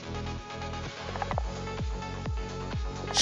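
Repeated electronic clicks from software trying to connect over SSH, in a steady rhythm, each one a short descending chirp, about every half second over a faint hum.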